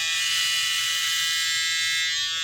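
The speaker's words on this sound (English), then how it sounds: "this the Instinct trimmer is a little ridiculous. Watch how it just busts through this hair" A Stylecraft Instinct hair trimmer running close and steady, with a high, even electric buzz that holds for a couple of seconds as the blade works through hair.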